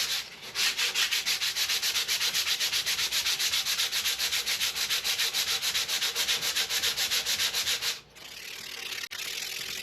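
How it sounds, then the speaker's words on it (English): Hand sanding of an old wooden rocking chair, a rapid even back-and-forth scraping rhythm, sped up, that runs steadily, pauses briefly and then resumes, close and alone without any power tools. "And commence the sanding."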